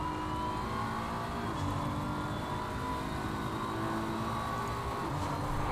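Continuous roar of race car engines in Assetto Corsa Competizione at Brands Hatch, steady and loud, with a droning, slightly rising pitch and no voices.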